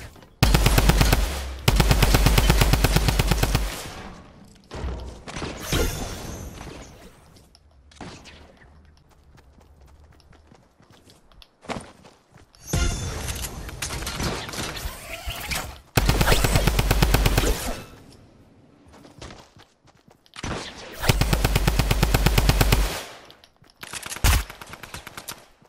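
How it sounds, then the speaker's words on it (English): Drum gun fire in Fortnite Battle Royale, loud sustained automatic bursts in several long volleys separated by quieter gaps with scattered shots and movement. "Another drum gun!"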